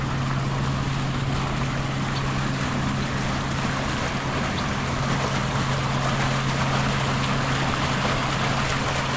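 Irrigation water runs steadily through a roadside ditch in Montana, a constant rushing wash with a low steady hum beneath it, continuous and fairly loud for the whole stretch with no voices.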